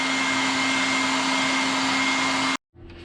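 A hair dryer blows steadily and loudly for about two and a half seconds while drying fresh paint on a fishing lure, then cuts off abruptly, leaving a quieter hum.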